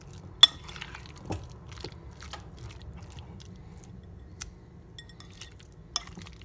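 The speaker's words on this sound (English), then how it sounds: "So just give that a stir." A utensil stirs egg salad in a bowl, giving a few sharp clinks and taps against the dish between quiet soft scraping, with no talk.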